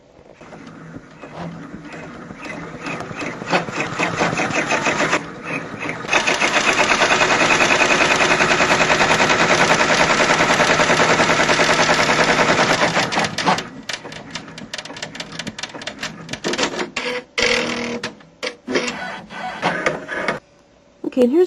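A sewing machine stitching appliqué fabric, a fast steady mechanical chatter that starts and stops in bursts, running loud and continuous for several seconds in the middle, with someone talking at times.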